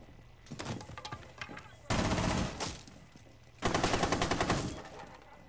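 Automatic gunfire in the video game Rainbow Six Siege arrives in several loud bursts of rapid shots, with quieter stretches of scattered firing between them.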